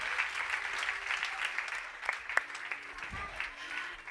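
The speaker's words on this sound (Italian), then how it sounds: "Un applauso alla Giorgia." Audience applauding after a theatre performance of Peter Pan, a soft, steady patter of many hands clapping at a moderate distance, with a faint voice briefly underneath.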